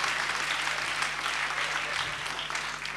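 Audience applause at a cabaret show in a hospital sketch, greeting a man in a striped shirt called up on stage; steady dense clapping from a crowd throughout, fairly soft, with a low hum underneath.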